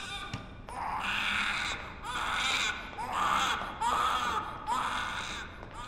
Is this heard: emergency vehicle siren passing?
no